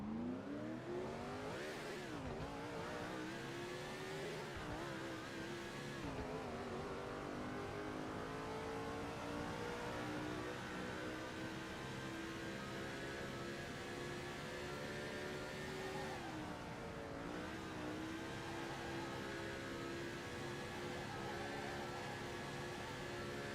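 Stock car engine in NASCAR 2005: Chase For The Cup, screaming at very high revs, pitch dipping and climbing through corners and shifts over a long sustained run, steady and loud with no talking.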